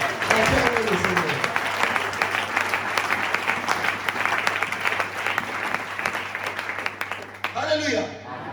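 A church congregation at a French-language Kaïros ministries service claps and cheers in praise, sustained loud applause with voices mixed in, tapering off toward the end.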